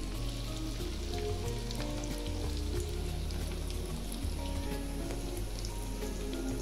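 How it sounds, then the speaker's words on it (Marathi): Breadcrumb-coated poha cutlets deep frying in hot oil, a dense, steady crackling sizzle with fine popping like rain, close and continuous throughout with no voices. "चांगलं गोल्डन ब्राऊन होईपर्यंत आपण याला तळून घेणार आहोत"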